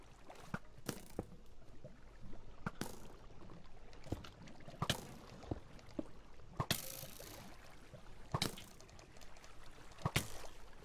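Faint flowing water in the video game Minecraft, a soft steady wash with scattered clicks and taps over it, quiet and continuous.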